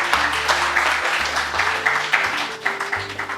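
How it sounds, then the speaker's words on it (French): Applause from a crowd, a steady crackling wash of clapping over a low sustained musical drone, fairly loud throughout. "Sous vos tonnerres d'applaudissements, s'il vous plaît."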